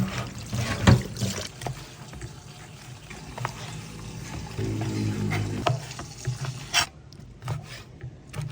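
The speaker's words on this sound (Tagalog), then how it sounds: "At hugasan uli natin." Meat being washed in water for dinuguan: trickling and pouring water with splashes and handling noises, a steadier running stretch in the middle, close and moderately loud, with no speech.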